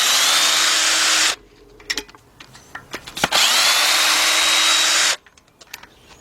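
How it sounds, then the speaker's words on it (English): A cordless impact gun on a 10mm socket works Jeep Liberty 3.7 engine bolts in two sustained, loud whirring bursts, with metallic clicks and clunks between and after them. "All right, I got my cordless gun here."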